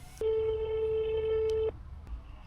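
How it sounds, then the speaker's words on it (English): A single telephone ringing tone sounds while calling a campsite in Europe, one steady electronic beep lasting about a second and a half, clear and close over a low background hum. "no campsites are answering their phone"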